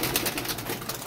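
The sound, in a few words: pigeons flying off after release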